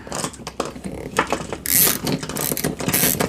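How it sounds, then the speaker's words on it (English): Screws are driven into a wall to fix a fire extinguisher mount, giving irregular ratcheting, grinding bursts with a short louder whir near the middle, close by and without speech. "I'm gonna get these screws in here"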